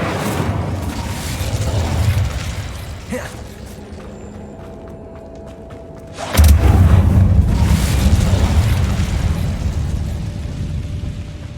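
A fire spell cast in Hogwarts Legacy bursts in with a sudden loud whoosh-boom and a sustained roaring rumble after a quieter stretch of game noise and a faint earlier thud.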